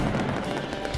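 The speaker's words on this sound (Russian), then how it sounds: "Шум взрывов достигает 120 дБ, поэтому ни в коем случае не закрывайте уши руками." Firecrackers of a mascletà pyrotechnic show during Las Fallas in Valencia, set off in the main square by city hall, make a dense, continuous crackling roar of overlapping blasts with no break.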